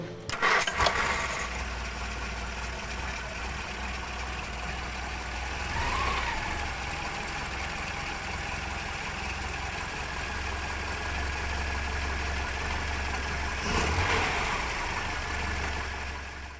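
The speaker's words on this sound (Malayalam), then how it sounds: "ഇനി നമുക്ക് ഇതിൻ്റെ എൻജിൻ ഒന്ന് സ്റ്റാർട്ട് ചെയ്ത് നോക്കിയാലോ." A Hindustan Ambassador (Morris Oxford Series 3) engine cranks and catches, then settles into a steady idle that runs on, with brief revving swells partway through.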